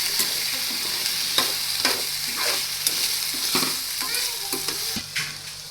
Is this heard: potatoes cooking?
yes